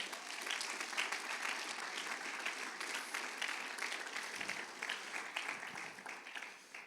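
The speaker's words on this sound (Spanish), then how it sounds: "De un aplauso al Señor en esta noche" Church congregation applauding during a Friday evening sermon, a steady dense wash of clapping that holds for several seconds and fades toward the end.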